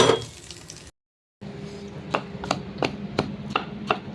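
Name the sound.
pounding dried fish for chutney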